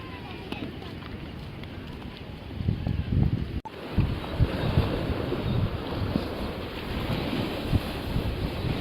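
Ocean waves and wind at Camplong beach, a broad continuous wash with surging swells, close and fairly loud, with a brief dropout midway.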